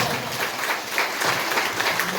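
An audience gives a brief burst of applause, a dense wash of clapping that sounds fairly far off and moderately loud.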